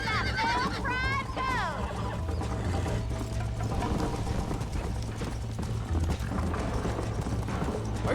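Horse hooves clip-clop steadily at a ranch in the Red Dead Redemption video game, a continuous rhythmic trot under game music and a brief whinny early on, with someone talking over it.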